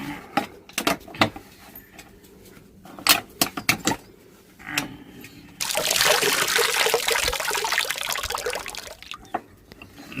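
Drinking water is poured in a steady, close rush for a few seconds in the middle, after a run of sharp taps and clicks, with a few clicks again at the end and no talking.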